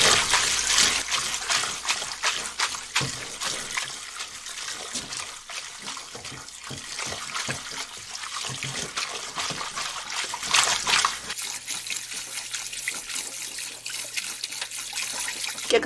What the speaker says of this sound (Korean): 깨끗한 물 나올 때까지만 씻어주시면 돼요.